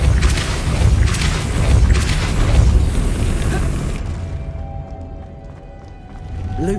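A Depulso spell cast in Hogwarts Legacy bursts out as a loud booming, rumbling blast that fades away after a few seconds, leaving quieter ambient game sound.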